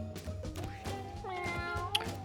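A cartoonish cat meows several times in the tactics game Mewgenics, short rising and falling tonal cries with a small blip near the end, moderately quiet over a low steady game music hum.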